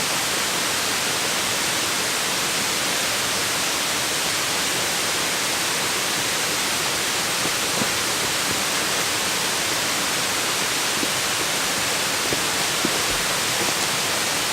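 Waterfall at Lumsdale Falls in Matlock, a steady broadband rush of falling water that fills the whole clip at an even level, close and constant, with no voices.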